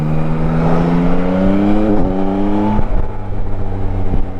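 Yamaha Tracer 9 GT motorcycle engine revving hard through rising pulls, with quick dips at gear changes. The note climbs repeatedly, loud and close, with no talking.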